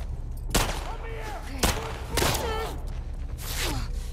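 Gunfire in The Last of Us Part 2, four sharp separate shots spaced about a second apart, each with a short ringing tail, fairly close and loud.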